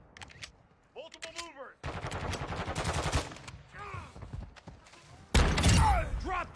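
Automatic gunfire in the video game Warzone 2.0, sustained bursts of rapid shots rattling loud over several seconds with a heavy final volley, while players talk in between.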